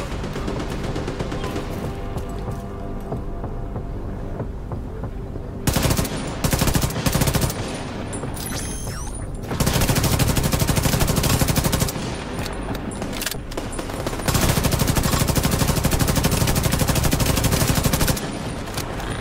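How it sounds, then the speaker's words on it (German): A gun turret in The Division 2 rattles out long, loud bursts of rapid automatic fire in several separate volleys, separated by quieter stretches of ambient game noise. "Seht ihr das Geschütz?"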